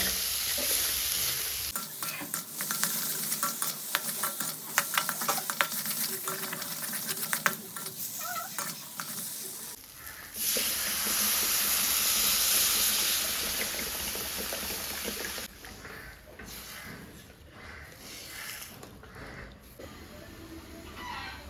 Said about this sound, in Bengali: এবার আমি সেদ্ধ আলুগুলো দিয়ে দেবো আলুটাকে ভালোভাবে কষিয়ে নেবো